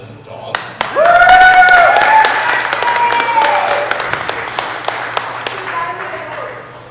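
An audience at a horror film Q&A breaks into applause, scattered sharp claps under loud voices that rise into whoops and cheers, then fade to a few claps over chatter.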